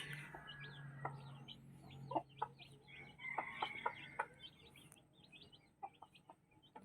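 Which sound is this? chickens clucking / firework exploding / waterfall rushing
chickens clucking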